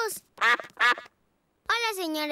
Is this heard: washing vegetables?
no